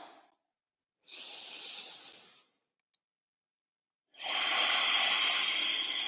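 Deep, close breaths are taken during a heart chakra breathing exercise, two long airy inhales or exhales separated by silence and a small click, alone without talk.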